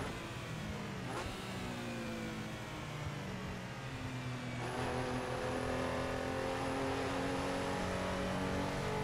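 A Porsche Carrera RSR race car engine in Assetto Corsa drones steadily at high revs, with gear changes shifting the pitch and a continuous loud roar throughout.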